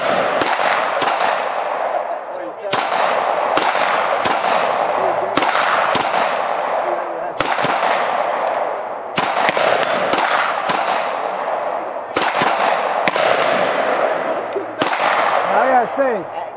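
Repeated gunshots strike steel plates on a dueling shooting tree, each crack followed by a bright metallic ring, firing in rapid bursts from more than one shooter over about sixteen seconds.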